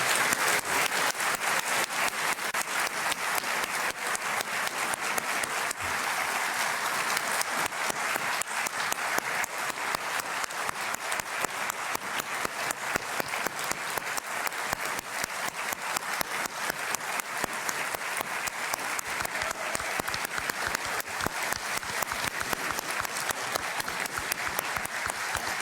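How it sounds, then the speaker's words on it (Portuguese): Dense, sustained applause from a large audience at a Brazilian ministers' swearing-in ceremony, steady and loud throughout with no pause in the clapping. "peço que todos nós possamos agradecer com uma salva de palmas o homem que trouxe de volta a esperança verde e amarela para o Brasil"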